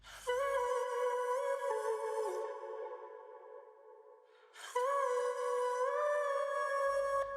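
A reversed vocal chop made in FL Studio swells as sustained, pitched vocal tones that glide and fade, then return in a second long phrase after a short dip.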